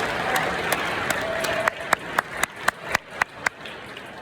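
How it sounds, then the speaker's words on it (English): Audience at a TubaChristmas concert in the Palmer House hotel clapping: a dense wash of applause that thins into a run of sharp, evenly spaced claps, close and fairly loud. "give yourself a round of applause."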